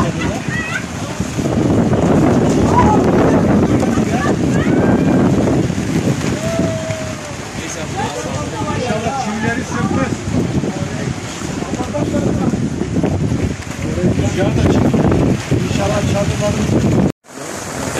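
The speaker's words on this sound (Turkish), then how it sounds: "Rüzgar çok kuvvetli." Strong gusts batter the microphone outdoors at an orange blossom festival in Adana during rain, with tents pitched nearby; a loud, continuous roar fills the whole stretch, and faint voices sit underneath.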